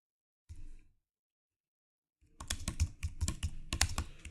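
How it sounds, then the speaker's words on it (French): Typing on a computer keyboard: a brief burst of key presses, a pause of silence, then a rapid run of close, crisp clicks and clatter, with no talking. "Je tape, j'enfonce la touche retour chariot sur le clavier"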